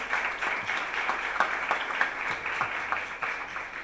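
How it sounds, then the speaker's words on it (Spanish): Steady crowd applause with dense overlapping claps, fairly distant and continuous, with a few louder bursts rising out of the wash. "Córdoba aplaude ahí desde el fondo."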